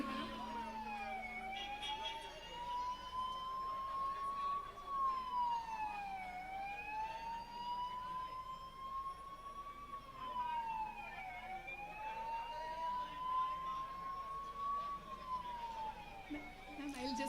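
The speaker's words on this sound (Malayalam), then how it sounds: "another ambulance is coming, മറ്റൊരു ആംബുലൻസ് വരുന്നു, നിങ്ങൾ വഴിമാറി കൊടുക്കണം." An ambulance siren wails in slow rising and falling sweeps, fairly distant and steady throughout, under crowd noise and amplified speech at an outdoor political meeting in Mampad, Wayanad.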